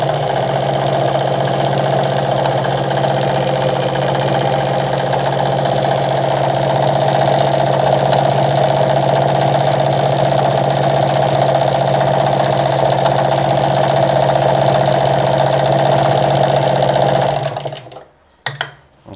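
A Vigorelli ZZ/A robot sewing machine stitches a design, its motor humming and needle clattering in a steady, loud, unbroken drone up close, then stopping abruptly near the end.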